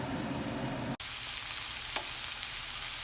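Cauliflower cooking with masalas in a lidded pan gives a steady, close, even sizzle, broken once by a brief dropout and followed by a short tap. No voices are heard.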